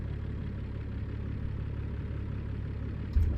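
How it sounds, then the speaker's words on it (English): Steady low truck engine idle from American Truck Simulator, a continuous droning rumble held at a constant level throughout with no talking. "You said it was engine noise that's too loud."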